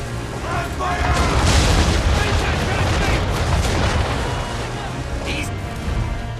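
Cannon broadsides fired from a man-of-war in the Assassin's Creed III video game, a dense, sustained rumble of booming blasts filling the whole stretch, with shouted commands over the barrage.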